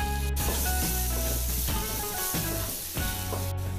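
Chicken masala for chicken chukka sautés in a pan, a loud, dense, unbroken sizzle and hiss close up, with a few stirring scrapes.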